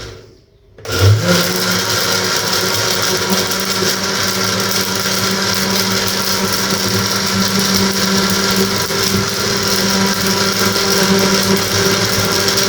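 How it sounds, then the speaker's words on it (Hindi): A kitchen blender whirs steadily at full speed, blending falsa berries with about a glass of water into a sharbat, with a loud, continuous motor drone that starts up after a brief quiet moment. "अब इसको हम करेंगे ब्लेंड।"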